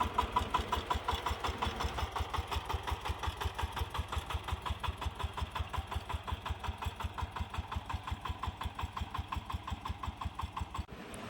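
A tractor's diesel engine chugs in a rapid, even rhythm as it drives in a field, loud and close, running steadily throughout with no talking.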